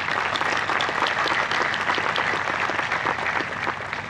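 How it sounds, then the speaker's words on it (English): A high school graduation crowd breaks into steady applause, many hands clapping together in a thick, even wash that holds at full strength for several seconds and eases slightly at the end. "if everyone would join me in giving these amazing influences a round of applause"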